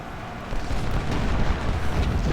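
Artillery fire in Ultimate General: Civil War rumbles as a continuous, heavy low boom and crackle of cannon, steady and loud throughout with no voices.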